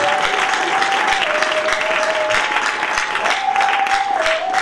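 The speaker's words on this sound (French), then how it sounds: "Encore une fois de plus, une forte main d'acclamation." A church congregation applauding in praise during a service, with loud close clapping that keeps going throughout. A steady electronic tone hums underneath and shifts pitch slightly.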